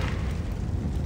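A dense, roaring explosion burst in the video game Gotham Knights, a continuous loud rumble filling the moment with no speech over it.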